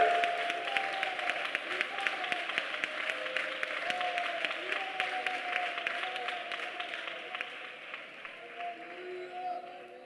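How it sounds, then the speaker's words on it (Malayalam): A church congregation claps steadily in rhythm during a night prayer meeting, a dense run of fast hand claps at moderate level, with a sustained voice or music tone droning underneath throughout. "കുഞ്ഞെ, ഈ രാത്രി കൈയടിച്ച് യേശുവിന് മഹത്വം കൊടുക്ക."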